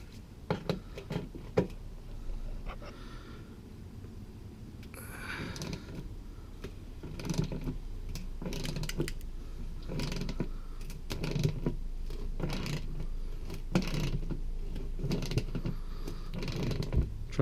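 A ratchet wrench clicks and creaks while loosening two bolts under a 2016 Mitsubishi Outlander during an oil and filter change, with repeated bursts of ratcheting and metallic taps, close and fairly steady, with no talk.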